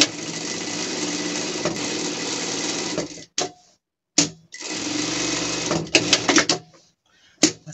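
A sewing machine stitches a seam around a fabric pet scarf in long, loud, steady runs broken by short pauses and clicks as the fabric is repositioned.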